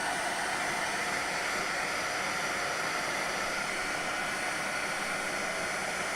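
A handheld hair dryer blows steadily on a mixed media craft box, producing a loud, continuous airy roar that holds even from start to finish with no talking.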